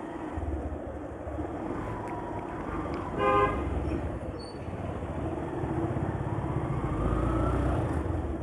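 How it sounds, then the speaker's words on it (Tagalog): A car horn honks from a vehicle on the road at dawn, a short series of rapid beeps cutting over steady traffic and engine rumble, with a few fainter toots later. "Busina ng busina, madaling araw."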